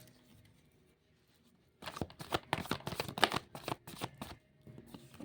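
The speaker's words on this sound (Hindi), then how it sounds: "अब हम इन कार्ड्स को एक बार क्लैरिफ़ाई करेंगे ताकि हमें और पिक्चर क्लियर हो जाए" Tarot cards being shuffled by hand, a quiet pause giving way to a burst of rapid riffling and flicking slaps that carries on close and fairly loud for several seconds.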